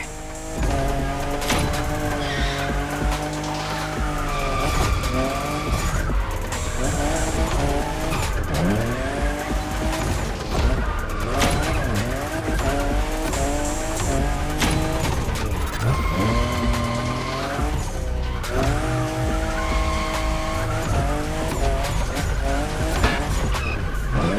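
Toyota Supra, fifth generation, drifting in The Crew Motorfest racing game, with a loud, continuous engine drone that rises and falls through gear changes and long tire squeals, constant throughout without pause.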